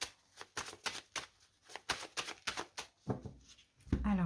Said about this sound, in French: on commence par une coupe avec le tarot